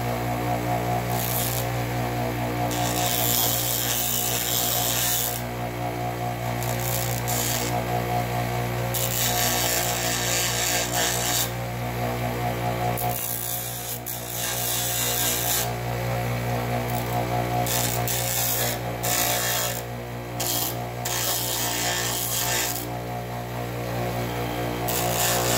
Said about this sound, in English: now going to grind the paint off of here so we can get a nice good weld